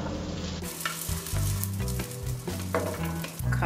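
Smoked herring sizzles and crackles steadily in a hot pan, a dense close frying hiss with faint clinks over it and no voices.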